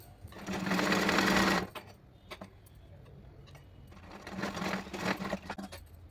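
Sewing machine stitching back-neck ties for a blouse, running in two steady bursts of whirring stitches separated by a quieter pause with faint clicks.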